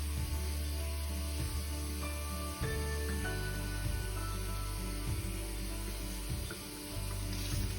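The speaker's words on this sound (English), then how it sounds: "we're going to give it a real good rinse." Water runs steadily from a tap as a hand-tied wig cap is rinsed in a sink. It is a soft, continuous hiss and splash with small shifts as the flow is disturbed, with no talking.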